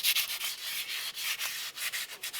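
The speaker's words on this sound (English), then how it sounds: "just clean the inside of the control arm flange here, or the hub flange" Sandpaper is rubbed by hand over the rear wheel hub flange of a 2006–2011 Cadillac DTS, a quick series of short, rhythmic scratchy strokes, close and fairly quiet, with no talking.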